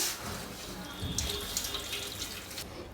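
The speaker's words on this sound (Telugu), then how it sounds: "సో మనం ఒక హాఫ్ కప్ వాటర్ వేసుకుందాం" Water, about half a cup, is poured into a bowl while preparing homemade nacho dough, making a brief, steady splashing trickle at close range.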